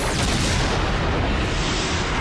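A Power Rangers Samurai Five Disc Beetle Cannon final strike blast: a loud, dense roaring burst of noise that fills the whole moment without letting up, with no voices over it.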